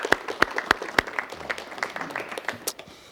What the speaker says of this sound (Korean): 여러분 박수를 부탁하겠습니다